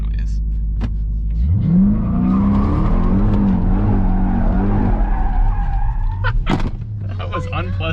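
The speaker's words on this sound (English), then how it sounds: "see if we can get the tires to spin" 2021 Dodge Durango SRT Hellcat spinning its tires sideways: a loud, close engine roar rises and holds with long tire squeal and skidding, then cuts off with a thunk as people talk over it.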